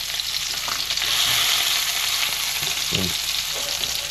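Lamb shanks browning in a hot wok give off a loud, steady, hissing sizzle close up, with a few soft knocks as the meat is turned, and no voices.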